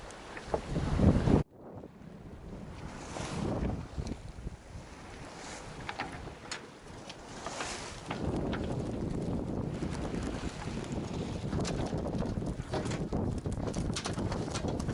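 An Olsen 38 sailboat tacks under way on a coastal cruise, with steady wind buffeting and water rushing along the hull. A sharp clatter near the start may be the jib coming over, followed by sustained noise from the boat and the wind.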